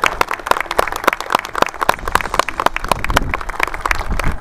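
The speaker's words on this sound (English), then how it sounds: "I just want to give them a round of applause." An audience at a public safety groundbreaking ceremony gives a round of applause: dense, fairly close hand clapping that carries on evenly for several seconds with no talking over it.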